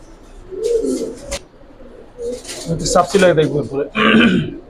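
Giribaz and coloured pigeons coo in low, throaty bursts close by, with someone talking over and between the calls.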